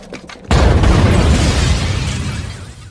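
A sudden loud explosion in a house erupts after a quiet moment, followed by a long rumbling roar that slowly fades, from the film The Bourne Supremacy.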